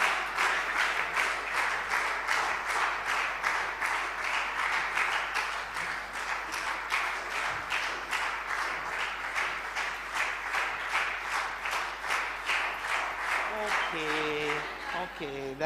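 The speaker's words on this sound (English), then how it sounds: "we're going to clap until the Honorable Minister is speaking" An audience claps steadily in rhythmic unison for a government minister, loud and sustained for over fifteen seconds, with voices audible underneath near the end.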